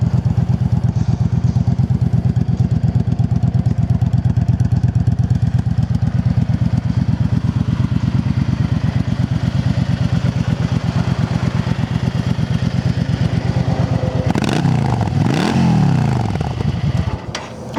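A Yamaha V Star 650 Classic motorcycle engine runs steadily at a low, throaty idle, then revs up sharply twice near the end before settling back down.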